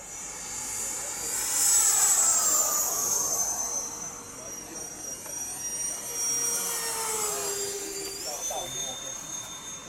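An FMS 70mm A-10 attack jet RC model with full ordnance load passes low overhead, its high electric ducted-fan whine rising, sweeping past and fading, then returning closer near the end, with open outdoor wind noise underneath.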